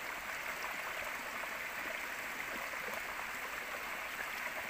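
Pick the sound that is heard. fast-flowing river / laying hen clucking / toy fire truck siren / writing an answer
fast-flowing river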